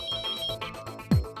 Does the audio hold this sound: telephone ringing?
yes